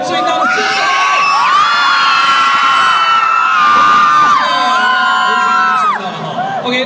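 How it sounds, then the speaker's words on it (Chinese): A live event audience cheering, whooping and shouting loudly for several seconds, a dense crowd roar with high excited yells that eases off near the end. "来，现场每一位给我一个最大的掌声"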